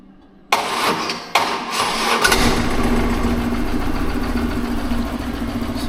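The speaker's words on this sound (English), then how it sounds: "So the starter doesn't sound good." A BMW R1100GS motorcycle's faulty starter motor cranks in short, uneven bursts, then the engine catches and settles into a loud, rough, steady run close by.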